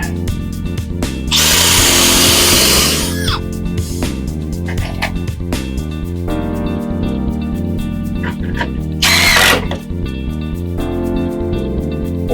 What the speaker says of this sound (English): Pre-drill another one.